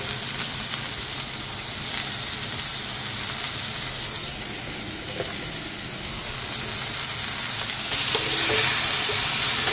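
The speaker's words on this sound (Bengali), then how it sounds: "এবারে কিছুক্ষণ এটাকে ভালো করে ভেজে নেব" Paneer, carrot, sweet corn, capsicum and tomato fry together in a pan, giving a loud, continuous close-up sizzle with faint stirring that swells near the end.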